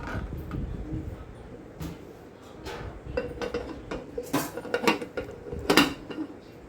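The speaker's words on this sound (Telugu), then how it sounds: "ఇప్పుడు కొత్తిమీరను కూడా వేసుకొని అంతా ఒకసారి బాగా కలిసేటట్టు కలుపుకొని మూత పెట్టుకుందాం." Chickpea biryani being stirred in a pot in a home kitchen, with clear clinks and scrapes of a metal spoon against the pot and a lid set on top, the loudest knocks near the end, no talking.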